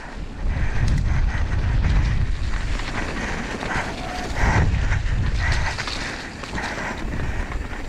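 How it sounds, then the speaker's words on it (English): Strong wind gusts roar across the microphone on a wet, muddy mountain bike trail at Afan, a steady buffeting rush rising and falling throughout with no talking. "Wind's picked up now"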